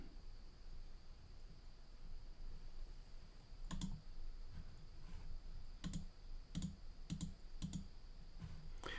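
A few scattered computer-keyboard keystrokes, soft isolated clicks spaced irregularly over a quiet background hiss, with no talking.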